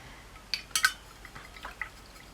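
A small paintbrush swishes and taps in water to wet and activate paint, giving a few brief close clinks and splashy dabs, with no talking.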